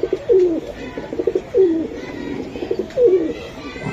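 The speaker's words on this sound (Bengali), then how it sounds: "চেহারাটা দেখলে শান্তি কবুতরটা।" A racer pigeon coos close by in three distinct rolling phrases at even intervals, with soft rustling and background noise between them.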